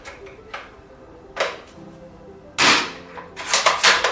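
An A&K M24 airsoft bolt-action sniper rifle on its stock spring, firing quick follow-up shots: sharp snaps alternate with clicking bolt cycling, close and loud, in a quick irregular rhythm.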